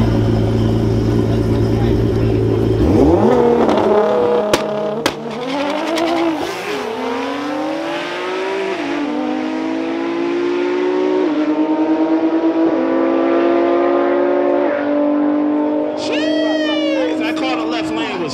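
Nissan GT-R drag cars launching side by side at a drag strip car show, engines revving hard and rising through gears in a loud sustained roar, with a sharp whine at the end and crowd noise and talk underneath.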